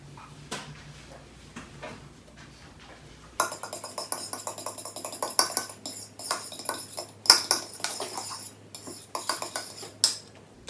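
A utensil stirring slime in a bowl: quiet scraping at first, then busy clinking and clattering of metal against the bowl in quick irregular strokes, close up, with no talking.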